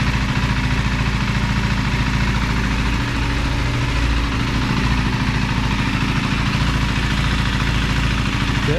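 A 2025 KTM 390 Enduro R single-cylinder motorcycle engine running on a dyno, a loud, close, steady throbbing idle with no clear rising rev, filling the whole stretch with no talking.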